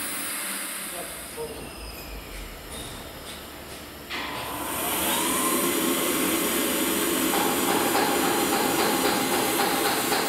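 A Mosa Green TO49R vacuum drum seeder runs in a working demo, giving a steady mechanical whir with a hissing vacuum tone that swells louder about four seconds in and then holds constant.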